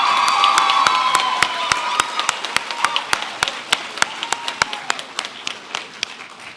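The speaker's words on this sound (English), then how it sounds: "Give them a round of applause." Loud sustained applause and cheering from a school assembly audience honouring the best debaters, dense clapping that thins into scattered, distinct claps toward the end.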